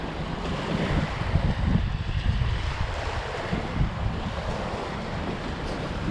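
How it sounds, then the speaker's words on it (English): Waves wash and roll onto a beach in a steady, loud surge, mixed with gusty wind buffeting the microphone. "the water is doing water things"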